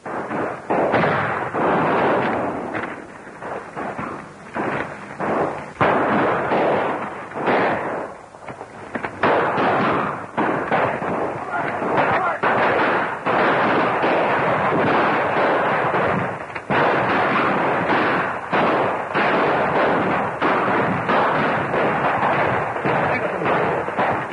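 Rapid bursts of gunfire in a 1935 action film serial, a dense crackling barrage of shots and booms continuing loudly throughout, with a voice briefly heard amid the shooting.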